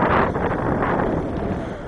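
Gusty wind buffets the microphone at a model-aircraft flying field, a loud, rumbling roar that surges at the start and then keeps blowing unevenly.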